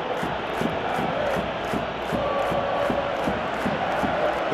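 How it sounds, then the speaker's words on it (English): A stadium crowd in a PES 2018 football match, Real Madrid against Liverpool in the Champions League final, roars in a steady broad swell with rhythmic rising chants pulsing beneath, continuous and loud with no clear talk. "you can hear how the crowd are reacting to this too"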